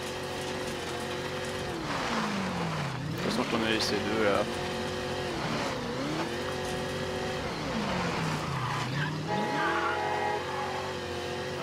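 A car in Mafia 3 drives hard and skids, its engine rising and falling through several revving sweeps with tire noise, while someone talks over it.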